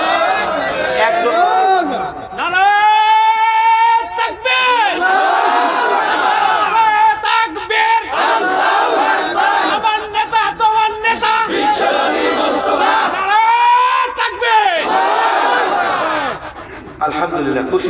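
A mosque congregation shouts the takbir in loud unison, several swelling collective calls rising and falling across the span, with a preacher's voice between them at a religious gathering.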